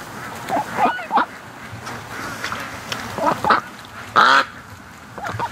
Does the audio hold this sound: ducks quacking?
yes